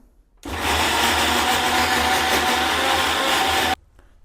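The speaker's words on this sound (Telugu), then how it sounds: "మంచిగా మిక్సీ పడదాం" A mixer grinder blends fried onions and tomato into a paste for chicken gravy, giving a loud, steady whir that starts abruptly, runs for about three seconds and cuts off sharply.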